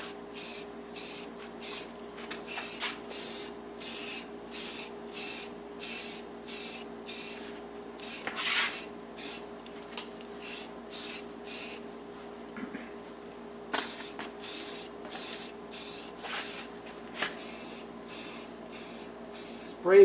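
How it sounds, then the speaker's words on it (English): Spray paint hisses from an aerosol can onto corroded aluminum car wheels during restoration, in a long series of short, sharp, rhythmic bursts separated by brief pauses, close and clear. "Spray paint restoration of aluminum wheels."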